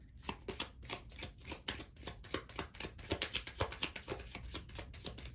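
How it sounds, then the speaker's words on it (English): Tarot cards shuffled steadily by hand, a continuous rapid riffling patter of close, soft flicks that runs without a break for several seconds, with no talking. "I'm going to shuffle it up for you,"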